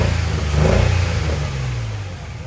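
A swapped engine in a Nissan 350Z revs up hard toward redline, a loud, close, rising engine roar lasting a couple of seconds.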